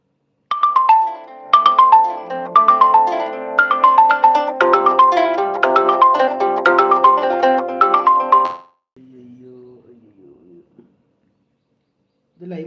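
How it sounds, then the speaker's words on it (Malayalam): An incoming phone call's ringtone plays loud and close as a repeating melodic electronic tune for about eight seconds, then cuts off, followed by a brief fainter tone and silence. "ഒരു കോൾ വന്നായിരുന്നു ആരാണെന്ന് അറിയില്ല"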